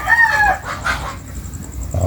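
A rooster crows nearby, followed by scattered clucking from egg-laying chickens and some rustling in the background.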